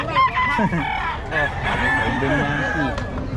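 A bull stag gamecock crows loudly and close by at a poultry sale in Bocaue, with clucking and other fowl calls around it and people talking in the background.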